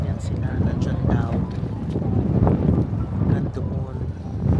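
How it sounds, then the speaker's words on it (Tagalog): Wind gusts buffet the microphone on a beach pier lined with private boats, a continuous rumbling roar with swelling gusts, while a person speaks over it. "Grabe, naririnig yung hangin."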